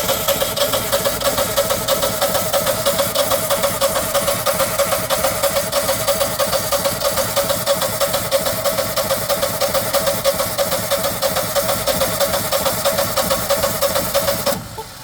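A Generac standby generator engine strains to run with a towel covering its intakes, chugging in a loud, regular pulsing rhythm for the whole stretch before cutting off abruptly at the end.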